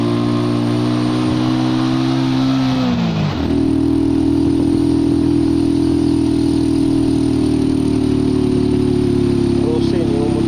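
Motorcycle engine on a habal-habal ride in Ginatilan, Cebu, a steady loud close drone that drops in pitch as the bike shifts and then holds, with voices over it.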